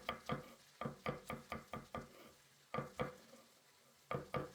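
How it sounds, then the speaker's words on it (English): A knife chops garlic cloves on a cutting board in quick bursts of sharp, close taps, with several strokes in each run and short pauses between the runs, fairly quiet with no talking. "you can finely chop them like I do to make sure they blend into the dish more evenly"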